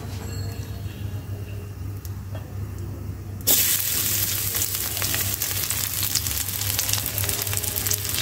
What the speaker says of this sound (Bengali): পেঁয়াজ আর রসুনটা ভাজা হয়ে গেছে।